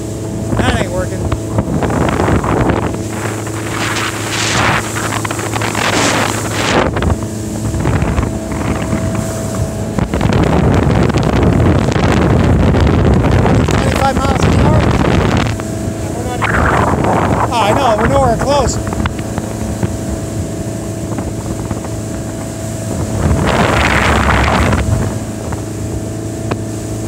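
A motorboat runs steadily on the water during a test run, its engine drone continuous across the whole stretch, with wind buffeting the microphone and people talking over it at times.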